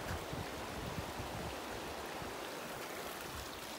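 A mountain stream near the Castleguard River rushes and babbles steadily as a quiet, continuous wash of water, with no voices.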